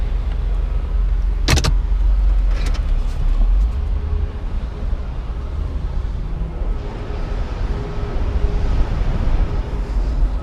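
A classic Jaguar XJ8 Vanden Plas drives through New York City, its engine and tire noise a steady loud rumble heard from inside the car, with a couple of brief electric window whirs early on.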